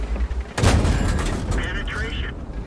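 A World of Tanks tank cannon fires a single heavy boom about half a second in, its blast rumbling and decaying over the following seconds; a voice talks faintly later on.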